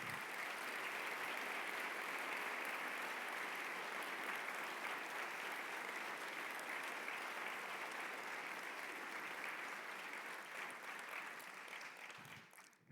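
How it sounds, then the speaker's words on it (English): A large audience at a resuscitation conference opening ceremony applauds steadily for about thirteen seconds, a dense, even wash of clapping that tapers off at the end. "I would like to ask you for a big, big applause for the work of all these people"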